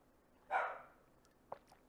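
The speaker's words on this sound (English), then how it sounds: "Whoa, dog's barking." A single dog bark sounds at a distance. It is sharp but muffled and fades quickly, followed by a couple of faint clicks in an otherwise quiet room.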